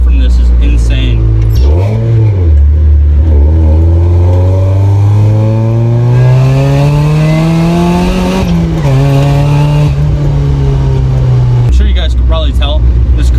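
A supercharged 1991 Mazda Miata with a 1997 M Edition drivetrain swap revs loudly up and down through the gears, its engine note and supercharger whine rising and falling close by.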